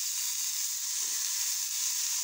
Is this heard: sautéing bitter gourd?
yes